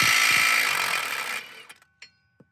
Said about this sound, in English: Now we'll go ahead and remove the rear CV axle nut.